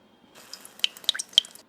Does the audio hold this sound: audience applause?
no